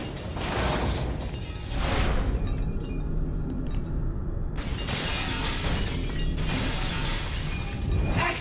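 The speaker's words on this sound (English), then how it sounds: "prove your mastery of grip by using the object to smash through these three glass panels" Glass panels smashed by a Force-thrown object in Star Wars: The Force Unleashed, loud crashing shatters with a brief lull between bursts of breaking glass and debris.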